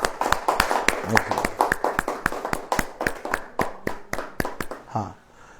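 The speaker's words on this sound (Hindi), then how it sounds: "ताली हो जाए।" A church congregation claps hands together in a steady, even rhythm, roughly three claps per second, loud and close, with faint talk underneath before the clapping stops.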